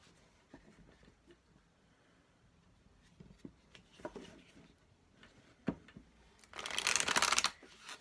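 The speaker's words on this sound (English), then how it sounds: "See, when the deck is easier to shuffle," A deck of cards is handled with light taps and riffles, then shuffled in a quick, loud flurry of fluttering near the end, heard close and without talk.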